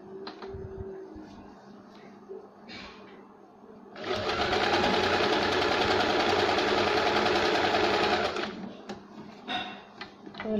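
A sewing machine stitches a blouse neck in one steady run of about four seconds, loud and close, with quieter handling sounds before and after.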